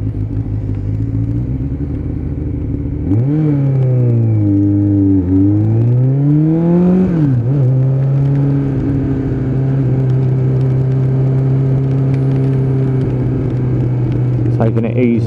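A Suzuki Bandit 600 motorcycle with a carburettor fault runs on a road test ride, its engine droning loudly and close, rising and falling in pitch as it revs and settles, with a voice talking over it.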